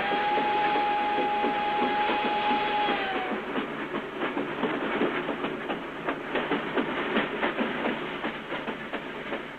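A train rolls along with a steady rumbling clatter, a high whine fading early as rhythmic clicks of the wheels continue.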